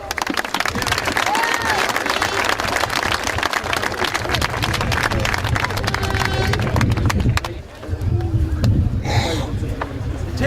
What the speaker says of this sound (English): I'd like to give a round of applause to them